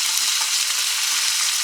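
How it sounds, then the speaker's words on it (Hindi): Capsicum fries in a pan with cumin and asafoetida, giving a steady loud hissing sizzle, close and continuous, with faint stirring underneath and no voices. "आइए अब इसमें हम हींग डालेंगे और शिमला मिर्च को डाल देंगे। शिमला मिर्च को हम हिला देंगे।"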